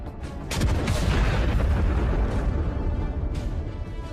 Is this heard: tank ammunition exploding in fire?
yes